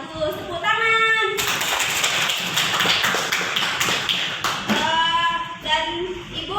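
Classroom of primary school children claps together in a burst of applause lasting several seconds, with children's voices talking before and after it.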